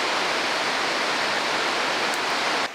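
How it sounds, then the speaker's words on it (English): A distant waterfall across a valley in a suspension bridge park in Vancouver gives a continuous, even rushing roar with no breaks, steady throughout before it cuts off abruptly at the end. "You can get a better look at that waterfall across the way."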